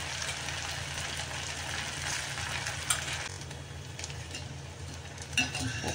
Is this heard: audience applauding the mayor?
no